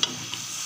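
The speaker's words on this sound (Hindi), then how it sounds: "अब हम इसके अंदर ऐड करेंगे लहसुन अदरक का पेस्ट।" Garlic ginger paste sizzling in hot oil with mutton for salted namkeen gosht, a steady close frying hiss with a couple of brief stirring clicks.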